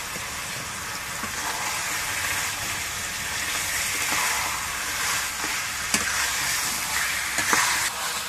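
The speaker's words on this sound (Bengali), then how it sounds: "মাংস দেওয়ার পর ভালো করে নেড়ে নিয়েছি।" Meat stirred and frying in a pan of freshly ground spice paste, a steady broadband sizzle with scattered scrapes and clicks of the spoon throughout, close and continuous with no talking.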